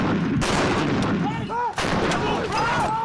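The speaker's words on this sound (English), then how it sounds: "These gunners are firing on an enemy position some 12 miles away." Royal Marines gunners fire artillery in Helmand, Afghanistan: loud, close blasts with whistling, rumbling tails and heavy background noise throughout.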